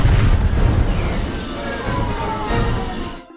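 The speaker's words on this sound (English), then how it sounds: "big sexy pyrotechnic explosions look cool on the big screen" A loud, sustained rumbling blast from a big-screen movie explosion effect, with a heavy low roar that rolls on for a few seconds before cutting off abruptly.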